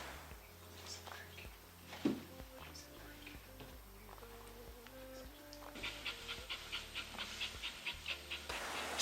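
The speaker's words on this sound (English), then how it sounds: "I knew he was a special dog." Dog panting softly on a mountain expedition in the Western Cape, faint at first under quiet background noise, then growing into a steady, rhythmic run of breathy pants toward the end.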